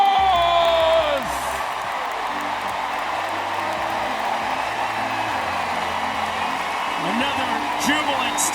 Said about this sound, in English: Another jubilant standing ovation from the full capacity crowd here in Wrigley Field